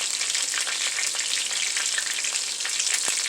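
Onions and peppers fry in a pot for stewed chicken, a loud, dense, steady sizzle and crackle close up with faint stirring scrapes and no talk.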